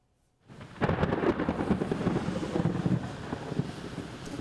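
Thunder from evening storms over the Chattahoochee Valley near Columbus, a loud, sustained rumble that rolls in after a brief silence and continues with crackling wind-buffeted texture.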